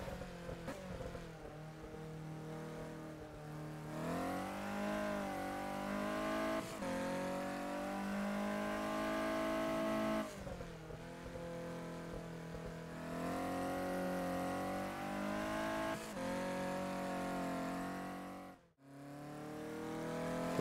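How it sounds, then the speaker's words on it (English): A race car in the rFactor 2 driving simulator laps a track, its engine note climbing and falling through the gears in a steady, loud drone that dips sharply near the end, with no voices. "As I begin driving around the track"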